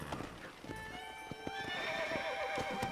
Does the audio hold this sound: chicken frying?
no